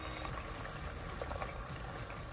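Steady wet splashing of tamarind water being poured into a pot of Goan shark ambot tik, a continuous broadband rush with no voices.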